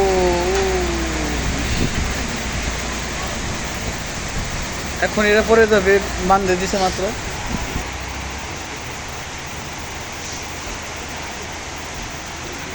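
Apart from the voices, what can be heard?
heavy rain falling at a market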